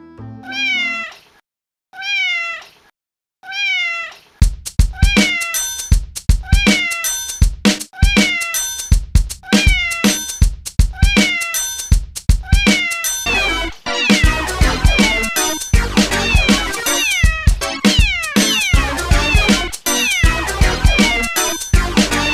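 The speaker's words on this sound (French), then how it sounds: "Regardez cette vidéo de petit chat trop mignon." A kitten meowing again and again, a few isolated cries at first and then a rapid, loud, nearly continuous run of high meows and squeals that grows busier toward the end.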